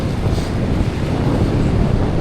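Wind blows hard across the microphone in warm, breezy weather, making a loud, constant buffeting rumble that runs through the whole stretch with no voices.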